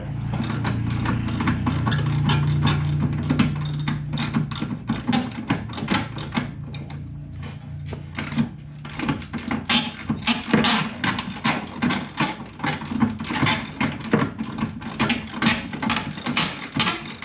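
Ratchet working rapidly on bolts while a C2 Corvette bumper is installed, long runs of dense close clicking in bursts, loud and continuous.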